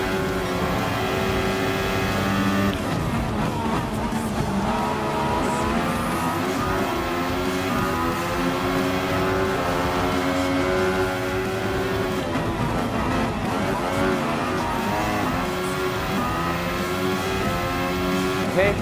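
A red Mercedes AMG Formula 1 car screams through a Gran Turismo Sport race event, its engine holding a loud, continuous high whine that climbs and dips as the car shifts and chases the pack.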